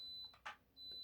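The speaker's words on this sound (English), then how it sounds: "My fridge is beeping up now." A household fridge gives a high, thin, steady alarm beep that breaks off briefly and then resumes. A short, louder rustle or clunk falls in the gap.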